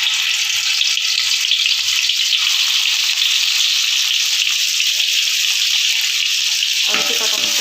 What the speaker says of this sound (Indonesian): ini minyak gorengnya udah panas ya. Tinggal kita masukkan bumbu halusnya ya.